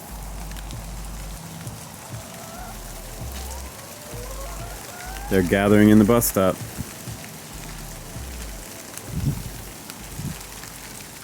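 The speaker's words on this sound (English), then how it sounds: "Here comes the rain." Rain falls steadily on an outdoor surface as a soft continuous patter, with people talking over it and a brief louder burst of activity midway.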